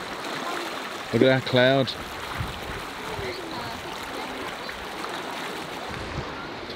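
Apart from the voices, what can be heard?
river flowing out into the sea at Ballycastle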